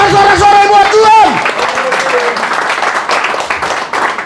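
A church congregation cheers and applauds loudly after a sermon, broad crowd noise with clapping and a few voices rising at the start, then sustained even applause to the end.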